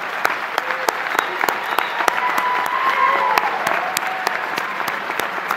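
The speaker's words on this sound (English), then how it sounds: "Let's give them a big round of applause." Audience applause at a college matriculation ceremony welcoming an incoming class, a dense steady clapping from a large crowd with sharp individual claps standing out, sustained throughout.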